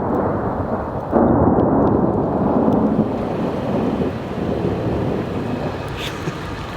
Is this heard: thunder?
yes